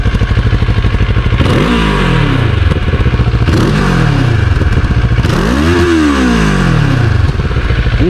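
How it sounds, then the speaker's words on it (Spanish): A CF Moto 700MT motorcycle engine idles with a steady rumble, then is revved hard three times, each rev climbing sharply and dropping back to idle. Loud and close. "El sonido de la 700 MT."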